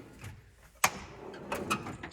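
A drawer on a Harbor Freight toolbox holding sockets slides open with one sharp clack and faint metallic rattles after it, quiet and close, with no talking.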